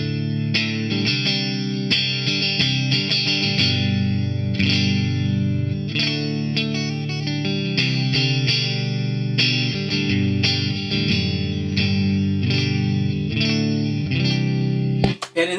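Telecaster electric guitar in pickup position 4 played through a BOSS WAZA amp head and 2x12 cabinet with light reverb, a loud continuous run of chords and notes that ends abruptly, no voices.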